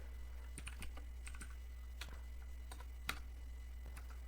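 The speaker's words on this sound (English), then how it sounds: "I am typing here dir command" Someone types a command into the Windows command prompt on a computer keyboard: a handful of separate, soft key clicks spaced unevenly over a steady low electrical hum. No one speaks.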